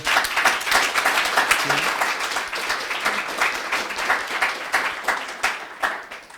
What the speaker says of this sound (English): Another round of applause for.